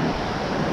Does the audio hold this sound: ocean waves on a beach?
yes